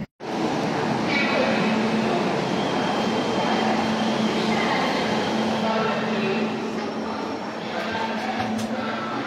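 The SMVT Bengaluru–Kamakhya Express standing at a station platform, with a loud, steady rumble and hum of the train and busy platform ambience that hold throughout.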